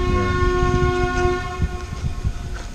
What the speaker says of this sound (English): so the trains are active today.